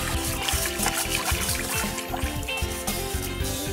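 Water trickles and splashes steadily as a toy pony is showered off in a small doll bathtub, with soft continuous patter throughout.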